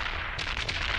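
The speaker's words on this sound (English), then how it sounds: "They're firing at me a lot." Enemy warships blast away with heavy cannon fire in the space combat game Dreadnought, a rapid series of muffled booming shots rolling together, moderately loud with no talk over it.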